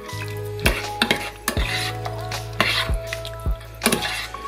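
A spoon scrapes and clanks against a pot of Bolognese meatball sauce, the strokes repeating roughly every second, over a steady low simmering bubble and a faint background hum; no one talks.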